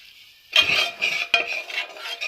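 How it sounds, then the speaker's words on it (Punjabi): Gram flour being stirred through hot ghee in a pan, with a spoon scraping in bursts of close, scratchy strokes against the metal. "ਇਹਨੂੰ ਹੁਣ ਤੁਸੀਂ ਚੰਗੀ ਤਰ੍ਹਾਂ ਹਿਲਾਉਣਾ ਆ, ਤਾਂ ਕਿ ਥੱਲੇ ਨਾ ਲੱਗ ਜਾਵੇ"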